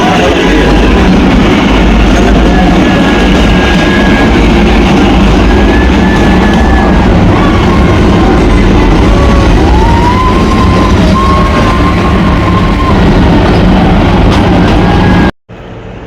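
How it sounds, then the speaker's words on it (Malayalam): The Kalka–Shimla toy train arriving at Barog station, a loud steady rumble of wheels and carriages with faint intermittent squeals, ending in a sudden cutoff. "ട്രെയിൻ ഇതാ ബറോഗ് റെയിൽവേ സ്റ്റേഷനിലേക്ക് എത്തിയിരിക്കുകയാണ്"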